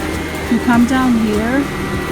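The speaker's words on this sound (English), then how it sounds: "I'm sorry, this lady's vacuuming now." A vacuum cleaner hums steadily in a Target store aisle, with a voice talking over its constant drone.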